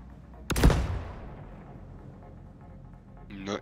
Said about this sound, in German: Okay, dann mal einen aufgeladenen Schuss aufs Cockpit.